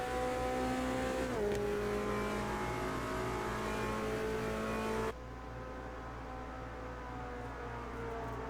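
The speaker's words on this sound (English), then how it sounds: "I do enjoy how the crowd is much louder than the car noises" Race car engine drone in the sim racing game Automobilista 2 during a GT touring race at Daytona, a steady loud tone with an abrupt change midway as the camera view cuts, under a dense crowd roar.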